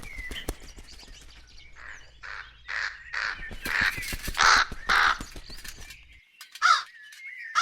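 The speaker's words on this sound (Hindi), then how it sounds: "ये कौवा यहाँ क्यों शोर कर रहा है?" A crow caws repeatedly in loud, harsh bursts, some close together, with quieter bird calls around them.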